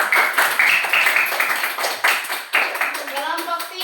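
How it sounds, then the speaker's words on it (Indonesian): A classroom group claps for a student team after a presentation: dense, close hand claps with uneven rhythm for several seconds, fading toward the end as a voice begins speaking. "Tepuk tangan buat kelompok 2."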